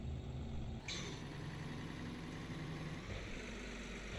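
Truck engine in a trucking video game rumbling at a steady low idle, constant and moderately close, with a brief click partway through and no talking.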